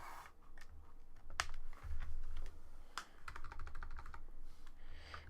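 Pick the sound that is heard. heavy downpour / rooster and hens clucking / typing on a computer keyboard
typing on a computer keyboard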